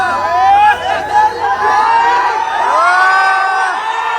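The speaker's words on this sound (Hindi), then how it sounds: "ये देखिए भीड़" A packed cinema crowd in Banaras cheers and whoops loudly, with overlapping shouts and excited voices forming a continuous roar.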